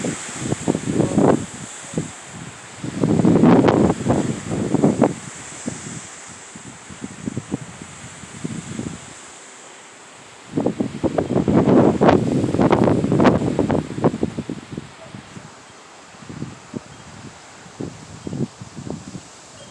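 A September wind storm gusts through a peach tree heavy with fruit, its leaves rustling and roaring in strong surges that rise and fall between quieter lulls.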